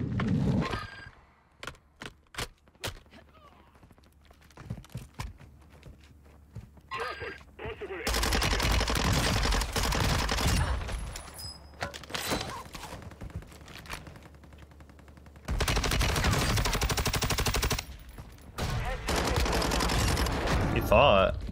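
Video game gunfire in Call of Duty Warzone on Ashika Island: bursts of automatic weapon fire, some sustained volleys several seconds long, mixed with scattered single shots and quieter gaps, loud and close.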